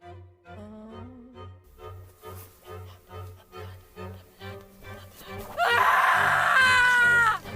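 A woman's frightful scream, used as an audiobook sound effect, breaks out suddenly and loudly, sustained and shrill for a couple of seconds, after a rhythmic pulsing low tone.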